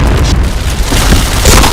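Grenade blast in a first-person shooter match: a dense, loud, rumbling boom that fills the whole moment, with a second surge of force near the end and no voices over it.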